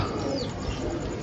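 Pigeons cooing at a pigeon-flying spot, soft low throaty coos close by, faint and brief with light background noise.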